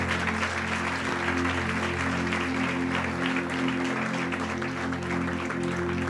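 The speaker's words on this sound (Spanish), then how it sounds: "¿Por qué no le da un fuerte aplauso al Rey?" Applause from a congregation at a Spanish-language church service, steady and dense across the whole stretch, with a sustained musical tone droning underneath.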